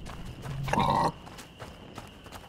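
A single pig grunt rises briefly over a quiet background hum in the video game A Plague Tale: Innocence, then the scene settles into low ambient noise with faint clicks.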